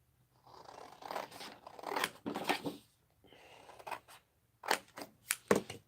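Small scissors snip through stamped paper close up in a series of short, crisp cuts, some in quick bursts, with brief pauses between them.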